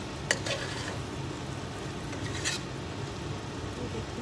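Aloo matar paneer sabzi with soya granules and kalonji frying and being stirred in a pan, a steady soft sizzle with a few brief scraping clicks, close and alone.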